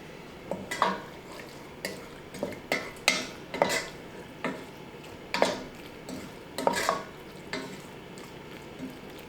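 A spoon stirs cooked, unrinsed pasta with tomato paste and pesto in a pot, giving a series of soft, wet scraping and clinking strokes spaced unevenly, close and moderately loud.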